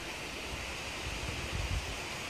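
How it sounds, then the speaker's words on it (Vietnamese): A steady, dense rush of falling water from the Chapơr waterfall in Ninh Thuận, heard ahead on a hillside trail, with low wind rumble mixed into the constant roar. "thác phía trước"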